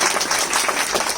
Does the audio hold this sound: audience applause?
yes